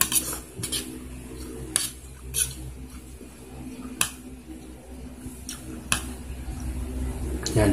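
Metal utensils clinking and scraping against a pan while pancit bihon noodles are tossed and mixed, irregular sharp taps over soft rustling, with some talk in the background.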